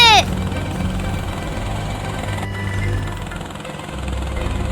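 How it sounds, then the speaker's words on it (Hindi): A cartoon helicopter flies in a Hindi comedy cartoon, a steady loud engine drone and rotor hum that holds throughout after a brief opening tone. "चिंटू, हेलीकॉप्टर तेज चला, ड्रैगन हमारे पीछे ही आ रहा है।"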